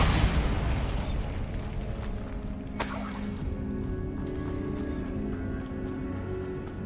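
In the video game Hogwarts Legacy, a Bombarda blasting spell sets off an explosion: a heavy opening burst and rumble, then a sharp crack with a shattering edge, settling into a lingering low roar.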